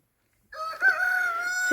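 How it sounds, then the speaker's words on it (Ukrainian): A rooster crows once, close and clear, its call rising sharply then holding a long, drawn-out note after a moment of silence. "Півень виспівує."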